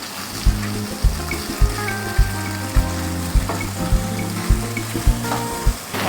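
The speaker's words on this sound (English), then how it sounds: "So the sausage goes in." Skinned sausage frying in a pot for Ghanaian okra soup, a loud close sizzle running throughout with regular knocks of a spoon stirring about once a second.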